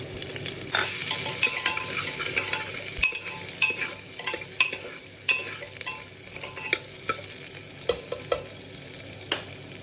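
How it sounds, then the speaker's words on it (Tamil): Onions sizzle in hot oil in a pan, a continuous close crackle broken by sharp clicks and scrapes of a spoon stirring at irregular intervals, with no speech. "வெங்காயம் மட்டும் ஒரு அஞ்சு நிமிஷம் வதங்கட்டும்"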